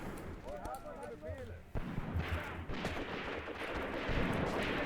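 Mortar impacts and gunfire in the World War II tactics video game Graviteam Tactics, with distant thumps and rattling shots scattered over a few seconds beneath a voice.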